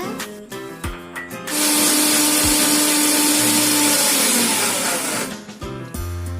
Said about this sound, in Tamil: தேவையான அளவு உப்பை சேர்த்து நம்ம நல்லா மறுபடியும் அரைச்சிக்கிடுவோம்.